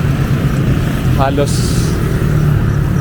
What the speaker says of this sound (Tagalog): Dumarami na yung mga sasakyan.